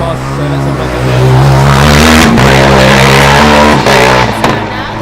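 A Formula Student race car on an autocross lap roars loud and close, its engine revving hard with sharp pitch climbs and brief drops at gear changes.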